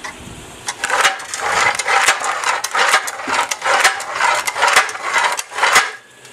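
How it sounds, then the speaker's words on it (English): A homemade industrial-strength can crusher with a welded gear is run by hand on a can, making continuous loud metallic rattling and clanking with repeated sharp impacts throughout, close up and with no talk. "Running the can crusher manually."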